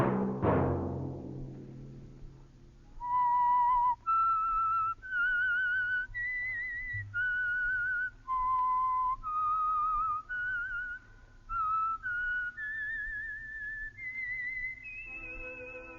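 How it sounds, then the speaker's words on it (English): A lone whistler performs the theme signal of The Whistler radio program, a slow, eerie melody of sustained pure notes that climb and fall, clear and prominent after a brief low thump at the start. "Let that whistle be your signal for the Signal Oil program, The Whistler"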